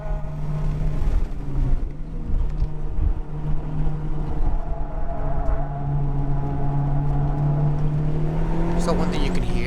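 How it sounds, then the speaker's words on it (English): A Honda Civic Type R (FK8) on a race track with heat-soaked tires squealing, a sustained tonal whine rising and falling over steady engine drone, with a person talking over it. "one thing you can hear is the tires are definitely kind of heat soaked, and they're squealing a lot"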